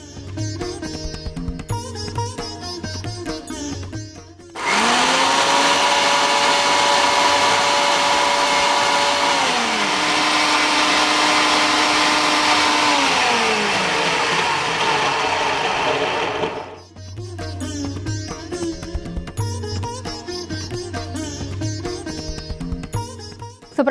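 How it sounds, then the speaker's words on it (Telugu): A kitchen mixer grinder blending tomato paste for tomato pulihora, a loud continuous whirring motor that runs for about twelve seconds with shifting pitch, set between stretches of quieter background sound. "మిక్సీ పట్టేసుకున్నాం కదా"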